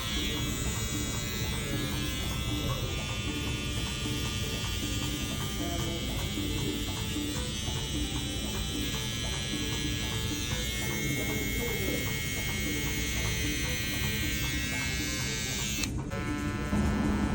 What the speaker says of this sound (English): we're putting a ball line in with your trimmers